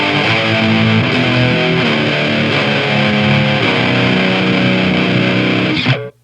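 A heavily distorted 7-string electric guitar through an Angle Fireball 25 tube amp with no effects plays loud sustained chords, thick and saturated, then cuts off abruptly at the end.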